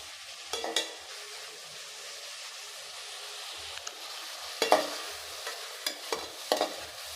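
Bitter gourd sautéing in oil for a kurma-style curry gives a soft steady sizzle, with a few sharp bursts of spoon stirring and scraping in the pan; no talking.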